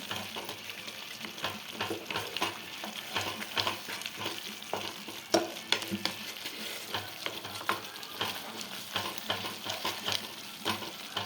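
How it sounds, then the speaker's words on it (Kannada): Thondekai (ivy gourd) curry cooks in a pan, giving a steady, close sizzling and bubbling with scraping stir sounds throughout, and no talking. "ಚೆನ್ನಾಗಿ ಹಸಿ ವಾಸನೆ ಹೋಗಿ ಚೆನ್ನಾಗಿ ಕುದೀತಾ ಇದೆ"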